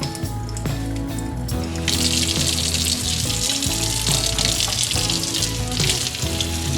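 Cold water runs steadily from a tap while homemade butter is rinsed, a continuous loud splashing gush with some clatter and knocks underneath.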